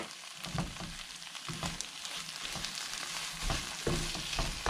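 Coriander masala with added garam masala sautés in a pan, a soft steady sizzle broken by quiet scraping and stirring strokes of a spoon, close and low in level.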